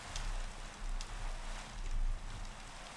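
Steady rain falling in Minecraft, a broad soft hiss with gentle surges, no voices, continuous throughout.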